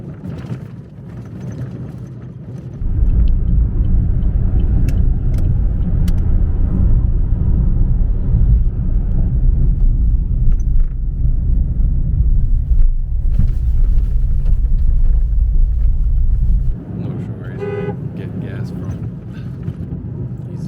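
A car on the road in Karakalpakstan gives a loud, steady low engine and road rumble from inside the cabin for most of the stretch, easing off near the end, with voices talking over it.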